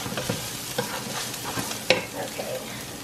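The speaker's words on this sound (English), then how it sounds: "Start stirring my meat a little bit." Ground meat frying in a pan while being stirred, soft sizzle broken by a series of spatula scrapes and taps, fairly quiet and close.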